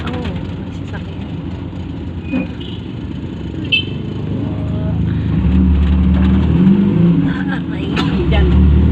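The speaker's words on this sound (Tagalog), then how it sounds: "Oh, sasakyan." A car passes close by on a busy street near a market, its engine growing louder and rumbling past, with people talking and street noise around it.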